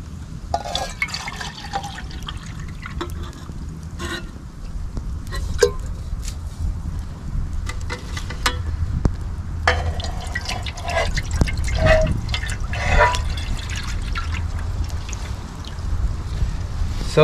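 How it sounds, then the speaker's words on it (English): Water is poured into a pot for boiling at an outdoor campsite with a tarp shelter, producing irregular splashing, trickling and dripping against a low rumbling outdoor background, with no talk. "I'm gonna start off with, of course, just boiling some water, 2 cups of water."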